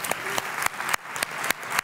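Steady applause from a conference panel audience, a dense wash of clapping with a few sharper claps standing out, no voices.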